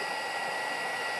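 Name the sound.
heat tool for heat embossing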